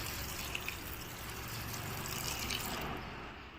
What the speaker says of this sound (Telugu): కొన్ని వాటర్ని వేసుకోవాలి ఉడికించుకోవడానికి